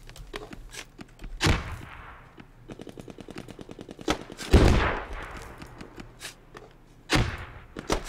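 Gunfire in the military shooter Squad: rapid machine-gun bursts and single shots in steady rattling runs, with several heavy close booms between them, loud and without talking.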